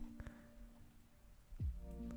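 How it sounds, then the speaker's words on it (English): Soft, steady rain patter from a game scene, with a brief low rumbling thud partway through. "Okay, so y'all can hear that rain?"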